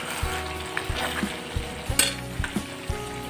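Duck meat frying in oil in a pan, sizzling steadily while being stirred, with a series of close knocks and scrapes of the utensil against the pan at a fairly regular pace.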